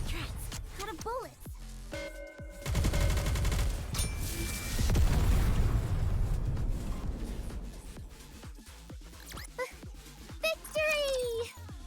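Rapid bursts of gunfire from the video game Nikke: Goddess of Victory, dense volleys and single shots rattling through most of the stretch, with character voices and game sounds around them.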